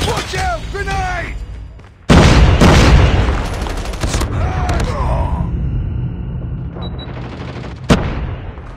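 A grenade blast in a battle royale video game bursts in loud and close, followed by sustained rumbling gunfire and battle noise, with earlier voice chatter and whistling sounds before the blast.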